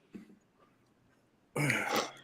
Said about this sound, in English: I just have to mute it for my coughing